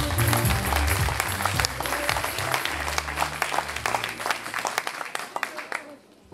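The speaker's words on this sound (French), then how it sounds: "On peut les applaudir, mesdames et messieurs." Audience applauding models at a local fashion show in Carvin, France, a broad clatter of clapping with a low musical backing that gradually thins to scattered individual claps and fades out near the end.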